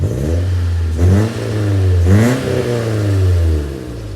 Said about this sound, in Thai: ดูฟังเสียงท่อนุ่มๆนะ